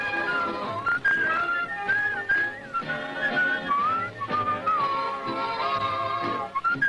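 A bright melodic whistle carries a wavering tune over soft accompaniment, steady and fairly close.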